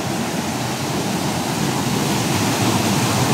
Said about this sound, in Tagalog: Lakas ng agos.